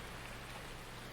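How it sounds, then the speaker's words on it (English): Rain falling in Farming Simulator 19 on a farm map, a steady, even hiss of dense rainfall with no breaks, heard alone and fairly quiet. "But for right now, it's raining."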